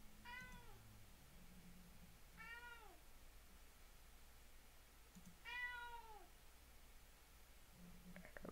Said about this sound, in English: I'm sure they can hear your meows.